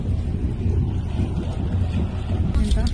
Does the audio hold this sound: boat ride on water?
yes